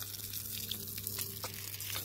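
Water spraying steadily on a farm beside a house under construction, a continuous close hiss of spray and splashing, with no voices.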